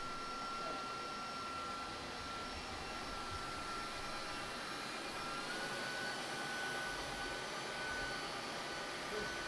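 An xLean TR1 robot vacuum cleaner runs in handheld mode, giving a steady, continuous motor whir with a faint high tonal whine that holds level and unbroken throughout, close by and alone.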